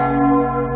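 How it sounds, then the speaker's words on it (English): A clock bell in the horror fan game Danganronpa: Antebellum rings out as one sustained, loud toll, its deep ringing hum holding steady and fading only slightly, with no voices. "Sudden bell tolled."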